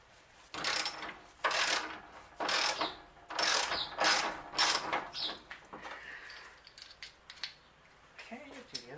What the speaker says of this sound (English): I'm going to see if I can put it on a regular ratchet